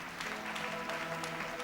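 A church congregation claps in a short, soft burst of steady applause, heard from a distance.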